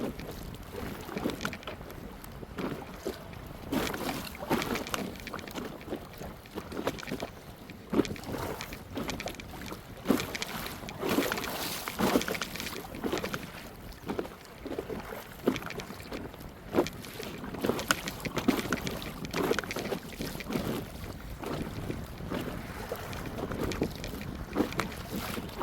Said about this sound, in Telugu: ఎగిరి పడుతుంది పడవ.